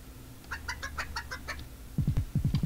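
Several hens cluck in quick bursts in the video game Pekka Kana 2, a run of short clucks followed by a louder, closer rhythmic series of clucks.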